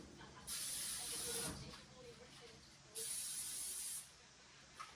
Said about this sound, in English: Then use the palm spray, olive oil.